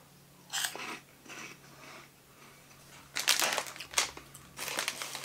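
Close, crisp crunching bursts of someone chewing cheese-flavoured puffed snack rings, salty and airy, in irregular bites that grow louder and denser toward the end, with no talk.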